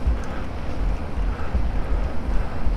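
Outdoors, wind buffets the microphone as a loud, gusty low rumble that swells and fades in uneven bursts, close and continuous, with no talking.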